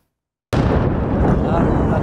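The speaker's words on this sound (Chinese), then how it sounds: "黑夜里爆炸巨响" Explosion from an Israeli airstrike on southern Lebanon at night: a sudden loud blast bursts out of silence after half a second, then holds as a dense, sustained roar and rumble to the end.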